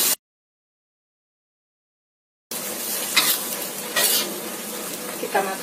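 Carrots and cauliflower simmering and sizzling in a pan for a simple stir-fry, with stirring and light utensil scrapes after a short silent gap, steady close bubbling hiss throughout.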